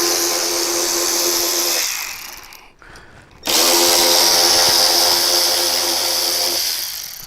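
A power tool whirs loudly while backing out the fairing bolts on a Road Glide motorcycle, in two sustained bursts separated by a short quiet pause.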